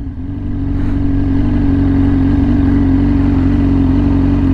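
A Yamaha R6 motorcycle with a loud aftermarket exhaust drones steadily while riding, heard as a close, constant and heavy engine roar that swells slightly at the start and then holds even.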